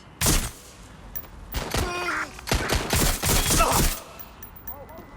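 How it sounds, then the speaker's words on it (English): Several sharp gunshot bursts crack out in quick succession in the video game Watch Dogs: Legion, some echoing, with brief electronic tones and a voice shouting between the shots. "Do you hear gunfire?"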